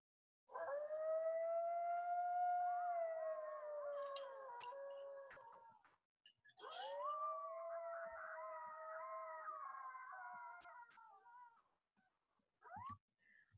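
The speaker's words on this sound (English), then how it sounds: "But this is kind of a quintessential coyote yippee howl." A coyote gives a yip-howl, two long wavering howls with harmonics, each about five seconds, then a short final yelp, clear and moderately distant against a quiet background.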